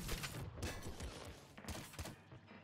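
Rapid bursts of gunfire from the Kraken gun in the video game Nuclear Throne, with repeated punchy shots and thuds in quick succession over a few seconds.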